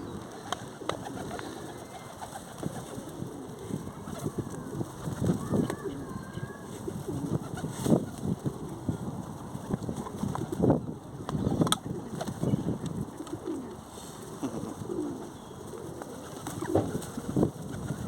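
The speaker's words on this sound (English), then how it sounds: "look at all these pigeons" A crowd of pigeons being fed coos and murmurs around the listener, with soft wing flutters and scattered bird calls in a busy, continuous outdoor mix; a person speaks briefly now and then.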